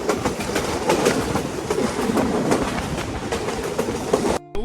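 The Chitra Express, hauled by a powerful locomotive, runs fast along the railway to Jessore, with a loud, rapid clickety-clack of wheels over rail joints under a continuous rumble, heard close and ending in an abrupt cut.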